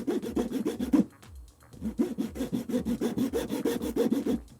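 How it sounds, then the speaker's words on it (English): A small razor saw makes careful back-and-forth strokes through a small wooden peg, the rhythmic rasping close and steady, with a short pause after the first second. "So I'll just use my little razor saw here and cut carefully along there."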